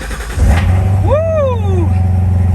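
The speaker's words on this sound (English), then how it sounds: "I'm just gonna start up and get the inside sound." Corvette Z06 with an LT4 engine starts up, heard from inside the cabin: starter whine and a loud rising rev that flares then settles into a deep rumbling idle.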